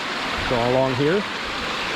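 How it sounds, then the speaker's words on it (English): Rushing water pours over a beaver dam in a steady broadband wash, loud and close, while someone speaks briefly over it. "Hopefully you can still hear me over the rushing water."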